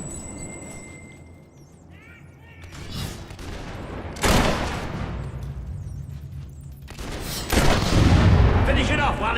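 Gunfire in the video game Fable 3 comes as two loud, sharp volleys a few seconds apart, each trailing off into a rumbling battle din. Voices can be heard in the background.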